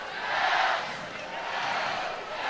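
Sold-out stadium crowd at a college softball game at the Jane in Eugene, a broad steady roar of many voices that swells briefly, then holds at a high, even level.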